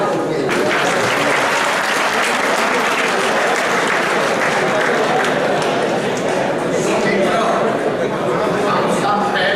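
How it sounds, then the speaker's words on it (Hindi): A large audience at a business talk claps in a dense, sustained wave of applause that stays loud and steady throughout with a faint murmur of voices. "ताली बजाओ."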